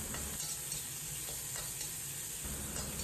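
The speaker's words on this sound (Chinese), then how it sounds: "将五花肉的油脂炒出，" Pork belly stir-fried in a wok with no added oil, its fat rendering out: a steady, close sizzle with scraping strokes of the spatula, even and continuous throughout.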